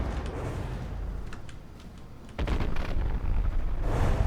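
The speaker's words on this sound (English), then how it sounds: "Well, we did have a gunfire." Naval guns on a battleship fire in a video game, a low, heavy rumble building into a louder booming roar partway through, with sharp crackling bursts on top and no talk.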